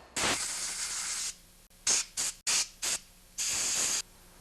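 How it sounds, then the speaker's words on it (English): Compressed air from a compressor set to 75 psi blows clean the carburetor parts of a Honda CT70 mini bike in several short hissing bursts of uneven length, close and fairly soft. "I'm going to grab my compressor and gently air blow all these parts that you see here"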